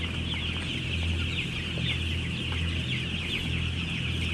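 Many chickens cluck steadily on a Thai chicken farm, a dense, continuous chorus layered over a constant mechanical hum and a high steady whine, with no voices.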